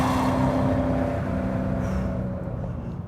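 A 2010 Ford Shelby GT500 Mustang running down the back straight of a race track, its engine a loud, steady drone that holds close then eases slightly toward the end.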